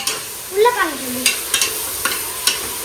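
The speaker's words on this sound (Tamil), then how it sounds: "இந்த மாதிரி வெங்காயத்தை நல்லா பொடியாக நம்ம வந்து ஸ்லைஸ் பண்ணிட்டு ஒரு கோல்டன் ப்ரௌன் வர வரைக்கும் நல்லா வச்சு நம்ம வதக்கிக்கலாம்" Sliced onions sauté in hot oil for a mutton biryani, with a steady sizzle and regular scraping stir strokes close by, and a brief voice early on.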